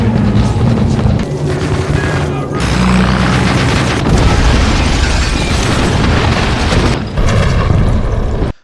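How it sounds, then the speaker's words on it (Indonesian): Film explosions destroying buildings in a city battle scene: loud, rumbling blasts and crashing debris follow one another almost continuously, with a few sharp cuts between bursts before ending abruptly. "Ledakan demi ledakan menghancurkan beberapa bangunan yang ada."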